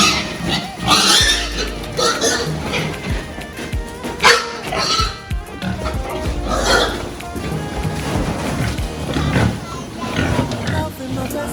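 Pregnant sows and gilts grunting during a delivery, loud, rough grunts and snorts in an irregular, busy stream, close by, mixed with voices and other animal noise throughout.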